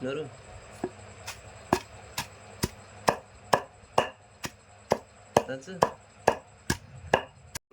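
Fried green chillies pounded and ground in a stone mortar: a steady run of about seventeen sharp, close thuds, evenly spaced and growing slightly louder toward the end.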